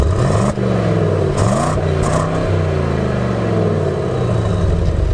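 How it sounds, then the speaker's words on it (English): A 2021 Mercedes-AMG GLE63 S with its twin-turbo V8 and the exhaust valve closed, a loud, steady engine drone with rising and falling rev sweeps and no talk. "This is what it sounds like with it closed."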